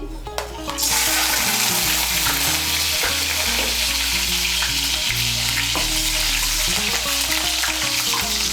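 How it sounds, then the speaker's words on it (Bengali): Chopped garlic goes into hot oil and fries with a loud, continuous sizzle and bubbling crackle, close and steady throughout with occasional stirring. "রসুন কুচিটাকে মিশিয়ে নেব, তেলের সঙ্গে মিশিয়ে নিয়ে হালকা করে একটু ভেজে নেব"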